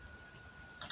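Two quick mouse clicks on a computer mouse at a desk, a crisp close double-click at the very end of an otherwise near-silent moment.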